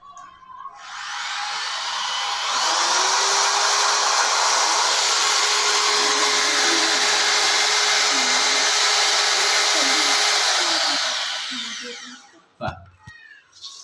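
An electric drill runs during a school lab demonstration, spinning up and holding a loud, steady whirring whine for about ten seconds before winding down, with a few clattering handling noises at the end.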